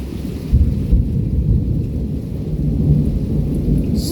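Deep thunder rolls continuously through a severe thunderstorm with heavy rain and 60 mph winds, a steady loud rumble with no voices.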